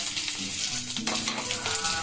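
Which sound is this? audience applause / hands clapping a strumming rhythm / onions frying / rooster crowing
onions frying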